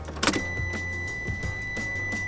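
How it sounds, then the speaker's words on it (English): A Daihatsu Rocky ignition key warning buzzer sounds as a steady high electronic tone inside the small 4x4's cabin, continuous over low car interior noise and a few faint clicks. "Stick it in the ignition and you'll listen to one of the worst buzzers I've heard in the industry."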